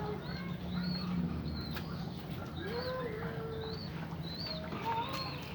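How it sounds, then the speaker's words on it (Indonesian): Doves kept in a breeding enclosure give soft low cooing calls, mixed with higher chirps and clucks from other birds, under a steady background of farmyard noise and faint voices. "Ini burung puter sama puter putih mata merah."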